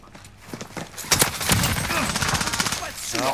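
Gunfire during a Warzone squad match: a sharp burst of shots, followed by a dense run of rapid automatic fire and a clattering background, with a voice speaking briefly.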